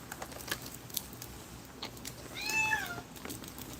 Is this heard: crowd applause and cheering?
no